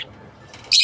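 A pet lovebird at its cage gives a short, sharp squawk up close, a brief harsh burst after a moment of quiet.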